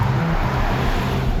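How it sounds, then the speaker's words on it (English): A Volkswagen GTI drives past on a residential road, its engine and tyre noise holding as a steady, fairly close rush across a brief moment. "And that was a GTI"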